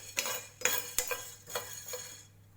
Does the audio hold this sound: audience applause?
no